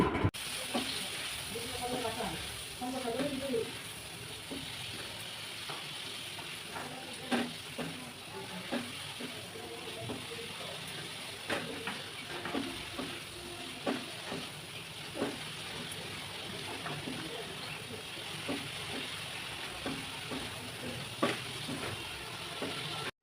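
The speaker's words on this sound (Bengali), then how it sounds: "এবার পরিমাণ মতো হলুদের গুঁড়ো, মরিচের গুঁড়ো, ধনিয়া গুঁড়ো ও স্বাদ মতো লবণ দিয়ে কিছুক্ষণ তরকারিটাকে কষিয়ে নেব" A fish curry (tengra chorchori) being sautéed with turmeric, chili powder, coriander powder and salt: steady quiet sizzling with repeated scraping and stirring clicks of a spatula in the pan throughout.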